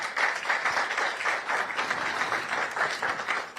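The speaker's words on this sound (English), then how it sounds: "They deserve a round of applause" Audience applause at an awards ceremony for contestants, a steady sustained crowd clapping with a dense even texture that carries on from start to finish.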